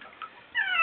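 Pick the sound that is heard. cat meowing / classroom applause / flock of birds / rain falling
cat meowing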